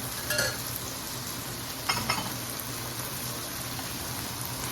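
Marinade sauce pours into a pan of chicken liver and meat for chicken igado, giving a close, steady sizzle broken by a couple of brief scraping stirs, with no talk.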